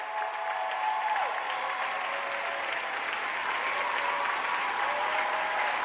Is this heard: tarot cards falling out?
no